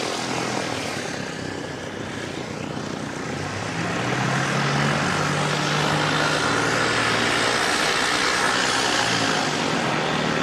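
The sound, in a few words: ATR turboprop aircraft after test flight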